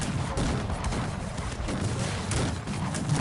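Cannon volleys in Cossacks 3, an Austrian campaign siege of Belgrade, form a dense, continuous rumble of overlapping booms and crackling shots, loud and steady throughout with no clear gaps.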